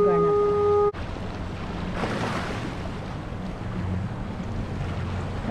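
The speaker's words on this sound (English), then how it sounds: "The horn!" At Noyo Harbor in Mendocino County, a boat horn sounds one steady, tonal blast that stops abruptly, leaving wind and lapping water behind it.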